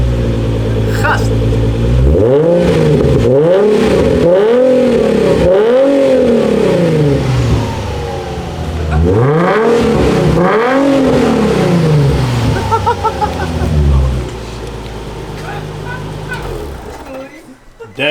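Nissan 350Z with a custom dual valved X-pipe exhaust, revving hard several times in repeated swelling bursts, loud and close, then settling into a rumbling idle, with people talking over it.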